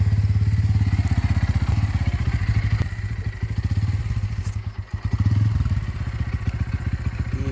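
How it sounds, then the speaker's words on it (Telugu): A motorcycle engine runs close by with a steady, rapid idle throb. It dips briefly near the middle and then picks up again with a slight rev, loud and alone. "బైక్ స్టార్ట్ చేద్దాం"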